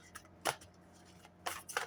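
A few soft, quick riffles of tarot cards being shuffled nearby, short separate bursts with quiet pauses between, no talking.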